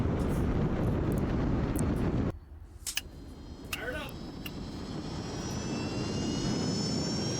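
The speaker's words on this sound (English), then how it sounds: "I'm going to start up all 3 jet engines, put the car in neutral, and go full power." Three jet engines mounted on a car run at full power while it sits in neutral, a loud, steady roar with rising whine that cuts out briefly and then swells back, heard close against wind buffeting.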